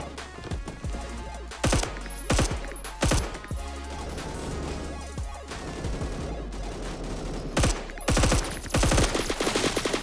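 Automatic gunfire in the Roblox shooter Phantom Forces comes in sharp, loud bursts and rapid strings of shots, some close and punchy, with short quieter gaps between volleys and no talk over it.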